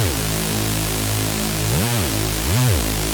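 Lead Ever, a big Future Rave synth lead from a sample pack, plays as a dense buzzing saw tone with two pitch swoops, loud and steady over its whole length, alone with no voice.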